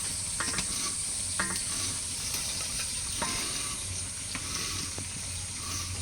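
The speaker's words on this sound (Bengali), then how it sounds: "জল ফুটে উঠেছে এবার চাল আর ডাল দিয়ে দেবো আগে ডাল দিয়ে দিচ্ছি ভেজে রাখা মুগ ডাল" Fried mung dal and rice go into a pot of boiling water, a few scrapes and clinks over a steady bubbling hiss.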